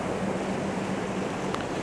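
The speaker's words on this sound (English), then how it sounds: "we're basically just grabbing shots of the waves breaking against them" Ocean waves breaking against wall remains on a beach at sunset, a steady broadband wash of surf with low rumble and some wind noise, continuous and fairly close, no talk.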